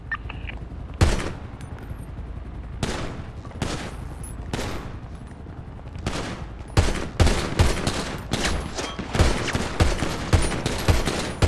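Gunfire crackles during a GTA roleplay holdout in a clothing store: scattered loud single shots early on, then dense rapid volleys and bursts that grow more frequent toward the end, with no talking.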